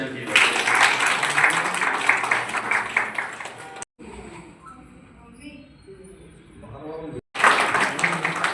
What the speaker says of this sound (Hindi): तालियां फिर से